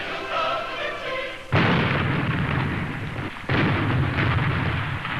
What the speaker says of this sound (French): le canon tonne à Fort Sumter